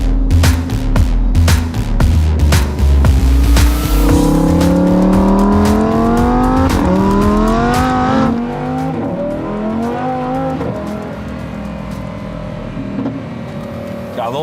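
A Lamborghini in Trofeo mode accelerates hard, its engine roaring loud and close and climbing in pitch through successive gear changes before settling into a steadier drone.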